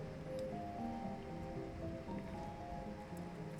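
Heavy rain pours steadily during a thunderstorm, a dense continuous wash of drops close by with no thunder clap standing out.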